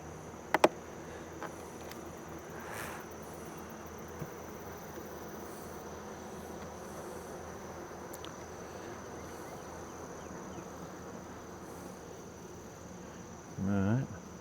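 Bees hum and buzz in a low, continuous drone during inspection of a newly purchased hive with glued frames, joined by a few sharp knocks and creaks from the wooden box.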